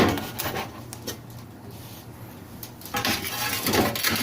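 Thin front sections of crab legs are cut off during cleaning, with scattered crisp snips and clacks against a dish or board, fairly close, mixed with soft handling noise and light clatter and no talking.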